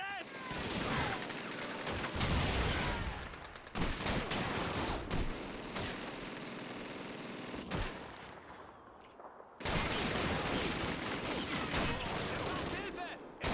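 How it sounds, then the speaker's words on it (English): Dense gunfire and a crowded battle soundscape from Call of Duty 2, the MG-42 machine gun among the bursts, loud and continuous with sharp cracks, a brief lull near the middle, and shouted soldier voices mixed in. "It's an MG-42! We must stop it!"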